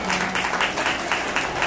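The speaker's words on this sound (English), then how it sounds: "Give everybody a round of applause for coming." A crowd at a rock benefit concert claps in a lively, close, fairly loud burst, with dense overlapping hand claps filling the short stretch and no speech over it.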